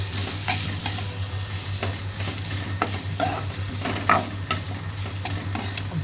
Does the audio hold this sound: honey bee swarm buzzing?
no